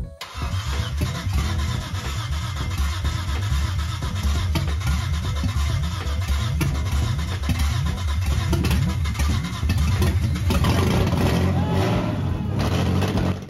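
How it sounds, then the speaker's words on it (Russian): A cheap Nissan drift car's scrapyard engine fires up for the first time after cranking, then revs repeatedly in loud, rough bursts close by, with excited voices mixed in. "первый запуск мотора с помойки сопровождается именно такими эмоциями"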